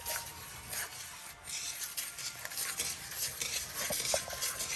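Buttermilk pancake batter is worked in a bowl with a utensil, producing steady wet scraping and clinking strokes that run continuously at moderate volume.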